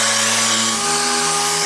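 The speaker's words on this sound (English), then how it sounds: "I'm going to use my sander because that works a bit faster." Power sander whirring steadily at high speed on paint of a Formula Konig race car tub, a loud, close, continuous buzz without pauses or talk.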